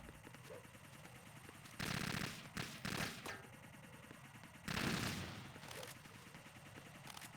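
Gunfire from the video game Metal Gear Solid 2 comes in a few short, rapid bursts of shots, loud against a quiet, steady game background.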